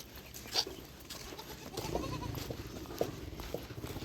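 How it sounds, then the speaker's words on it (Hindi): Young goat kids bleat in brief, faint calls against an outdoor backdrop on a riverbank, with one sharper cry standing out amid soft ambient noise and no talk. "यहाँ पे हर किसी के बकरी के बच्चे हैं, सारे लोगों के पास है। बोल भी रहे हैं, में कर रहे हैं।"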